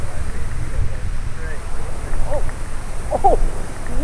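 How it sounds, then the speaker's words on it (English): Strong wind roars steadily across the microphone beside a public pond, a constant low buffeting rumble that never lets up, with faint voices and a few brief chirps scattered over it. "that wind is brutal."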